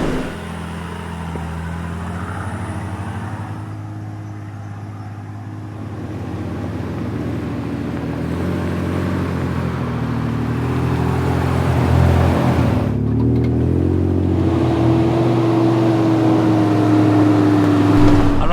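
A vehicle towing a trailer grinds up a rutted, narrow mountain track in the Victorian High Country, its engine droning steadily up close and growing slightly louder toward the end, with no talking.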